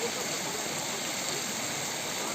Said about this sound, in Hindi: ये शीतल नाला, झरझर झरझर झर पानी गिर रहा है।